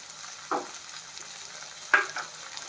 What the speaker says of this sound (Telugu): వేసేసి చక్కగా కలుపుకోవాలి